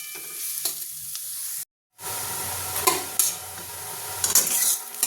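Banana stem (thor) being stirred and fried in oil in a pan, a steady close sizzle with scraping stirs, broken by a brief moment of silence midway.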